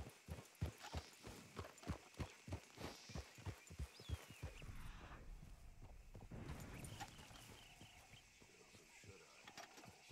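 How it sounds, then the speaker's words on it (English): Horse hooves clip-clop in the Red Dead Redemption 2 game, a steady rhythmic run of about a dozen hoofbeats that fades into a softer mix of ambient game sound. "Those are horses."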